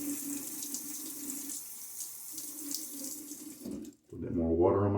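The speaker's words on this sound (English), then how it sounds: "A little bit more water on my face there." Tap water runs steadily into a sink during a wet shave with a Gillette New flat-bottom razor, then briefly cuts out before louder, closer splashing with a voice over it.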